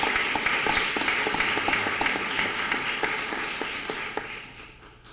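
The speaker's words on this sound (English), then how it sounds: "Why don't we give all of them a round of applause?" A courtroom audience at a Supreme Court ceremonial session gives a full round of applause, dense and steady at first, then thinning and fading over about five seconds.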